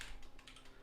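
Quick keystrokes on a programmed computer keyboard, several soft clicks in a fast rhythm, close and fairly quiet.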